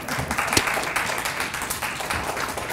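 Audience applause greeting a speaker as she comes up to talk at a community health event, a short burst of dense clapping with one sharper clap near the middle, steady and moderately loud.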